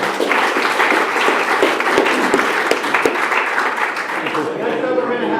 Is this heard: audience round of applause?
yes